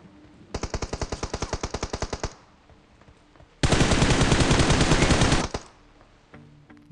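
Automatic weapon fire in PUBG Mobile: a rapid string of about a dozen evenly spaced shots, then after a pause a louder, denser sustained burst, both close and sharp.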